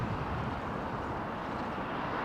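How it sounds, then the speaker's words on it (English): A Boeing Dreamliner in Discover Petra livery begins its long departure roll at London Heathrow, heard as a faint, distant, steady rumble of engines lasting a couple of seconds. "Okay, Discover Petra livery. Okay, long Dreamliner departure run."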